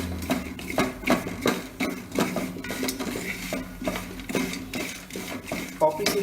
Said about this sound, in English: Now at last I'm adding poppy seeds and stone flour for roast.